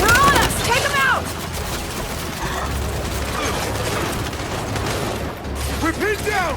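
Turret gunfire and mechanical clatter in the video game Gears 5, loud bursts of rapid shots with grinding machinery beneath, mixed with shouted voices over the action.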